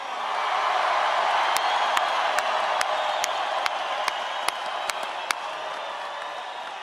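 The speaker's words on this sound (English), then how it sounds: "Give them another round of applause." A large crowd at a political rally in Colorado applauds steadily, a dense wash of clapping with a few sharp louder claps standing out, continuing without pause.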